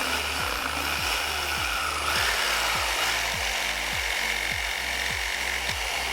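A jigsaw nibbles notches into material with a loud, continuous buzzing cut broken by rhythmic repeated strokes, close and steady throughout.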